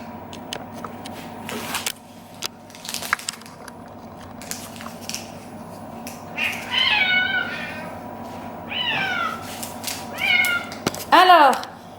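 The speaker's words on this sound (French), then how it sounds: "c'est parti pour les calendriers d'avant des chats, parce qu'ils sont pas contents, ils attendent" Cats meowing impatiently at home ahead of their advent calendar treats, several short rising meows bunched toward the end, close by, over a low steady household hum with some faint rustling and crunching.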